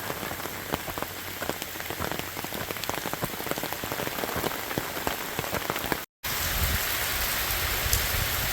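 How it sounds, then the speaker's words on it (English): Heavy rain pours steadily beside a road bridge crossing, a dense, continuous hiss of drops striking surfaces close by, broken only by a momentary gap before the downpour resumes. "Well, we got a pretty good rain going on."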